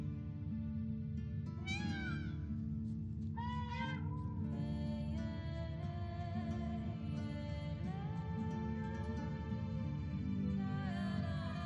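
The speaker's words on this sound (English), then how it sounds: "Meow." A cat meows in The Witcher 3: Wild Hunt during a hunt, calling repeatedly in drawn-out, rising and falling cries over a constant low game ambience.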